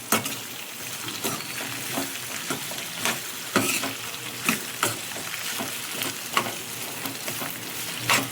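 Potato fry is stirred in a hot pan: a steady sizzle runs throughout, broken by repeated scraping and clacking strokes at an uneven pace, close and fairly loud, with no voices.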